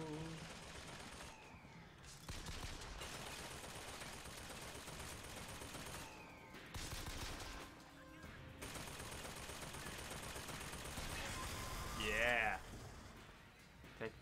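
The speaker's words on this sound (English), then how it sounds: "That machine gun." Sustained machine gun fire rattles through a BioShock Infinite firefight, a dense, fairly faint barrage with brief pauses, overlaid by shouts and a sharp electronic chirp near the end.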